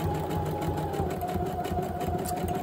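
A sewing machine runs steadily while stitching a zigzag seam on fabric tag pockets, producing a close, continuous rapid mechanical chatter at an even pace throughout.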